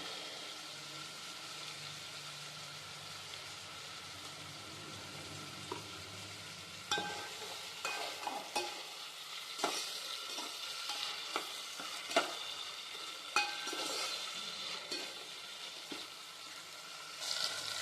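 Egg biryani masala with ginger garlic paste sizzles quietly in a pan, with soft scraping stirs that come in irregular bursts over the steady frying hiss.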